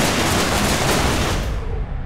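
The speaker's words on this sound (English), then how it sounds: "The explosion is pretty." A spacecraft blows up in the space-combat video game Everspace, a loud, dense, broadband blast that roars steadily for about two seconds before thinning out at the end.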